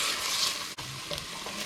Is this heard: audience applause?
no